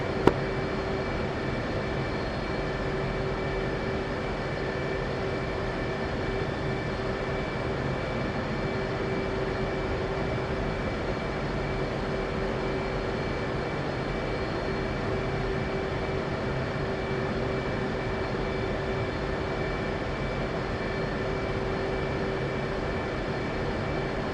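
A military aircraft taxiing to the runway in Arma Reforger gives off a steady, continuous engine drone with a sustained tonal whine. The sound stays level and unchanging throughout, with no talk over it.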